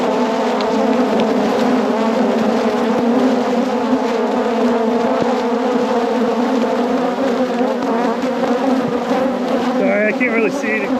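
Honey bees packed in an opened hive during a deep spring inspection after winter, a dense, loud, continuous close buzz with a steady drone throughout.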